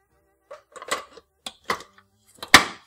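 Metal mixing bowl holding flour and salt clanked into place on a dough machine in a bread-making kitchen: a few scattered clinks and knocks, ending in one sharp loud metallic clunk as it locks tight.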